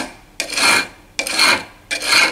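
A knife trims leftover sandpaper on a flattening tool in a Spanish guitar workshop, giving three loud rasping scrapes at an even pace, each with a short pause between strokes.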